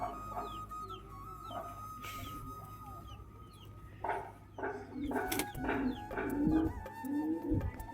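A pair of Rajshahi pigeons coo softly nearby in repeated short bursts, with the calls coming faster and louder toward the end against a quiet background hum.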